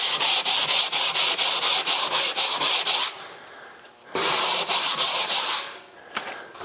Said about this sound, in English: We have a nice consistent grain with the sandpaper, just 80 grit.